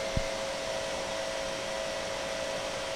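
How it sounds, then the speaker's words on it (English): A refrigerant reclaimer machine runs during a Maytag refrigerator compressor repair, producing a constant broadband whir with a steady motor hum tone, close and unchanging after a brief click at the start. "Turn the reclaimer on."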